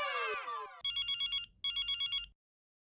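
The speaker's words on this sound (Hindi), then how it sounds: "सॉरी सॉरी बबीता जी, आप मुझे फोन कर रही हैं और मैं आपका फोन उठा नहीं पा रहा हूँ।" A telephone rings electronically in two quick warbling bursts, each a rapid series of trilling pulses, after a short sweeping tone.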